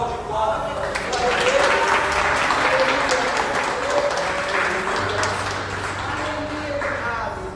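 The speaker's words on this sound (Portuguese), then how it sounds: "Dá uma salva de palmas." A church congregation applauding during a service, steady dense clapping from many people sustained throughout, with voices speaking over it.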